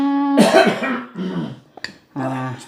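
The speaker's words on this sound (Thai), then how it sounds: "มีการกระแอมกระไอนะคะปู่อยู่ข้างๆ" An elderly man coughs and clears his throat nearby in a kitchen setting, a harsh burst of coughing followed by a shorter throat-clearing rasp, with a brief pause between.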